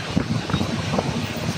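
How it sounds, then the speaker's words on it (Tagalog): Strong night wind by the sea buffets the microphone with heavy low rumbling gusts, loud and continuous. "Grabe lakas ang hangin."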